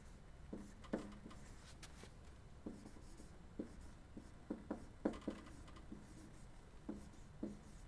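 A pen writes notes in a notebook, soft close scratching strokes arriving in short irregular bursts with brief pauses between them, faint and alone in a quiet room.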